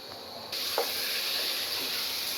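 About 800 grams of small-cut chicken pieces dropped into hot oil for chicken tehari, a sudden broad sizzle that jumps up and then holds steady and loud, with no talking.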